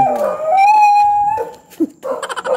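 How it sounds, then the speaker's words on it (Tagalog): A dog howling on a dark street at night: a loud, close, drawn-out howl that wavers in pitch, followed by a brief yelp and a few short whimpering yips. "Parang kumakakanta yung aso."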